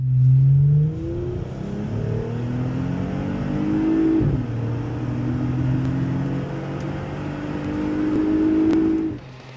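A Jeep Wrangler on 40-inch tires with 5.38 gears accelerates hard, its engine climbing steadily in pitch through successive gear changes, loud and continuous with no talk.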